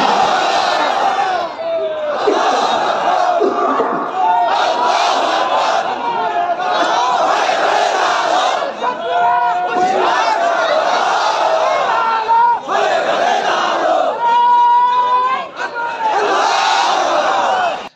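A large crowd at an open-air religious rally roars a loud, sustained chant in reply to a takbir call, the massed voices rising and falling together in repeated waves over about eighteen seconds.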